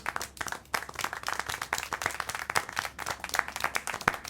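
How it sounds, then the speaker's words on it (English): Steady clapping and applause from an in-game audience in the video game Syberia The World Before, a dense run of sharp claps lasting several seconds at moderate loudness with no talk. "How can you clap?"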